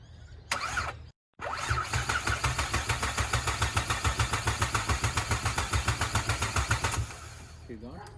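A Ford XR6 Turbo with a rebuilt Barra engine cranks over steadily on the starter for about six seconds, a rhythmic chugging pulse with no catch, heard close up after a brief stop-start at the beginning.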